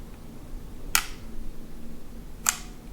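Two crisp mechanical clicks from the shutter of an Adox 66 medium format 120 film camera, spaced about a second and a half apart against a quiet room background.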